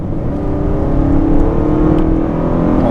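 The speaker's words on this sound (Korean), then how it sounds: "나 지금 RPM 1500이야 편안하게 가다가 치고 나가야겠다 풀악셀" A Kia K8 sedan with a 200-horsepower engine and a mild-shifting automatic, pulling hard at full throttle from about 1500 RPM in D mode, gives a steady, loud engine drone and whir heard from inside the cabin, with no talk.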